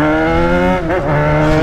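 A Yamaha XJ6 motorcycle roars loudly past, the steady engine note swelling and dipping slightly as it passes close by.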